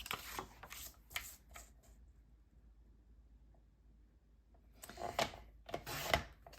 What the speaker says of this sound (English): I'm going to cut a piece that is 2 inches wide.